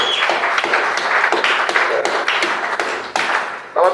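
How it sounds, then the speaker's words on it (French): Loud, close clapping from a church congregation during a Sunday service, dense overlapping claps with a few sharp individual hits, continuing for several seconds before a voice breaks in at the end. "Applaudissez pour le Seigneur."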